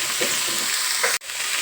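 Sliced onion, bitter gourd and ivy gourd fry in a pan for a dry stir-fry, giving a loud, steady close sizzle that cuts out briefly for an instant near the end.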